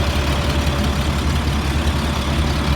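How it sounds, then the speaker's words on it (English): A 2004 Blue Bird All American 72-passenger school bus engine idles close by, a loud, steady low rumble with an even throb and no voices over it. "Motor sounds good."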